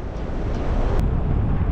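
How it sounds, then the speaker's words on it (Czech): Wind rushes steadily over the microphone of a paraglider in flight above Emberger Alm in Austria, a loud, even buffeting roar with no voices. "Tak co to tady zase fouká"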